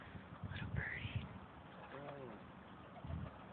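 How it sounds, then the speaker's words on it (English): Pigeons coo softly at a beach setting: a few low, faint coos rise briefly under close murmured talk and light background noise. "Look at the pigeons."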